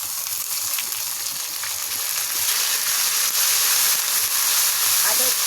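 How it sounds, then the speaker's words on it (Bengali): Ginger garlic paste frying in oil with onions for a beef and taro curry gives a loud, steady, close sizzle and hiss with a few faint stirring scrapes throughout. "আদা রসুন বাটাটাও আমি একটু তেলের সাথে ভালোভাবে ভেজে নিলাম।"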